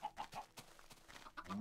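Chickens clucking on a Minecraft chicken farm, a short burst of several soft, clipped clucks in quick succession, close and moderately quiet with no talking.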